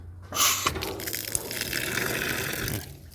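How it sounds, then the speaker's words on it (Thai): Water gushing through a newly installed supply pipe for a top-loading Sharp washing machine, a steady close rush of flow that starts abruptly and stops after about two and a half seconds. "น้ำไหลนะครับ ไม่รั่วนะครับ"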